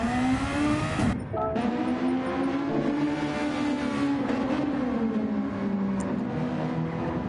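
Race cars run practice laps at Daytona in the Grand Prix Legends sim racing game, a loud, steady engine drone with rising and falling harmonics, a brief gear-change dip near the start, and the cars heard close throughout.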